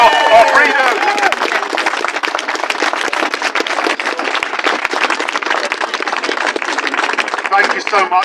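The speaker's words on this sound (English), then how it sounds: "You're so kind applauding me" Outdoor rally crowd in Oxford applauding a speaker, a dense patter of clapping with scattered cheers running throughout, while a voice speaks over it at the start and the end.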